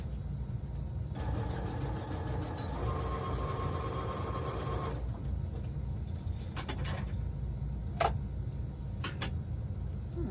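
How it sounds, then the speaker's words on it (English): A sewing machine stitching on a paper-and-fabric winter folio craft piece, giving a steady mechanical whir for a few seconds that then stops, leaving quiet clicks and handling noises. "let me just throw a stitch in that"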